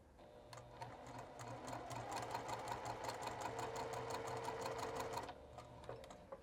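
A sewing machine stitches slippery fabric beside canvas in a steady rapid run of needle strokes lasting about five seconds, near and clear, then stopping.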